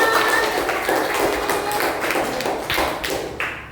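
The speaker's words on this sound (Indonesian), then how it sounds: "Beri tepuk tangan." Primary-school class clapping hands together during a lesson, a dense run of sharp claps sounding fairly close and steady, then thinning out toward the end, with no talking over it.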